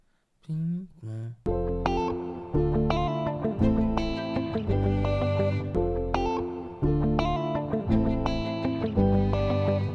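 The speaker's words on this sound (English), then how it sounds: "with the guitar we can add some reverb. Let's use the little plate reverb" Guitar plays an afro-style beat with a plate reverb added, repeating plucked phrases over a deep bass pulse, loud and continuous after a brief spoken intro.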